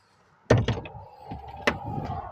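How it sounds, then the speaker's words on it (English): A garden door swings open with a sharp wooden knock and clatter, then settles with a second, lighter thunk about a second later, close by and fairly loud against faint outdoor background noise. "back through the new door"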